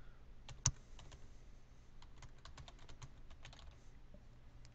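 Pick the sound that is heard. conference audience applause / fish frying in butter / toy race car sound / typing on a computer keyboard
typing on a computer keyboard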